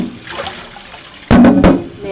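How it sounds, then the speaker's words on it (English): A pot is rinsed out under tap water, a quiet trickle followed by two louder, close splashing bursts of water. "Rinse out your pot."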